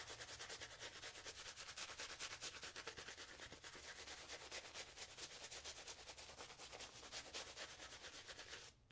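A shaving brush whips soap lather on a face, a fast, rhythmic scratchy swishing that repeats steadily and closely throughout, faint overall and with no voices.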